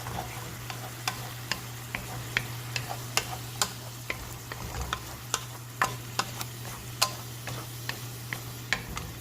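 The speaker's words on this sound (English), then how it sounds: "Go ahead and just scramble it up." An egg is whisked in a bowl for a chilaquiles dish with bacon and cheese, giving a steady run of light, sharp clicks and taps of the utensil against the dish over a constant low hum, with no talking.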